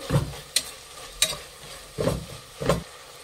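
Chopped mint and coriander are stirred into soya biryani in a pan, five distinct scraping strokes of the spoon spaced about half a second apart, close and moderately loud over a faint sizzle, with no talking.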